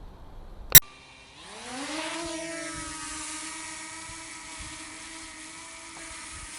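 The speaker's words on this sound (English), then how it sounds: "let's do a little drone flight" A DJI Mini drone spins up and takes off near a railway line after a sharp click, its high-pitched whirring buzz rising in pitch and then holding steady, fairly close and alone.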